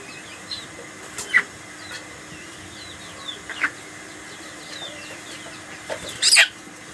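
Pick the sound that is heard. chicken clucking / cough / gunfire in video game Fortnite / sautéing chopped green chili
chicken clucking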